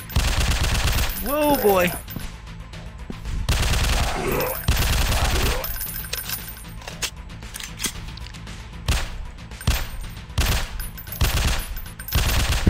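Uzi submachine gun fires in a zombie-hunting video game, loud rapid bursts repeating through the scene with short gaps, and a voice exclaims briefly over the shooting.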